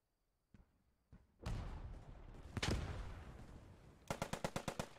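Gunfire in the WWII shooter Post Scriptum: a few sharp isolated shots, then a loud sustained burst and a close rapid automatic string of about eight cracks near the end, with no talking.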